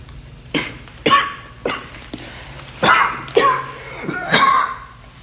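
Several sharp coughs and throat bursts in a row, some with a raspy vocal edge, close and fairly loud.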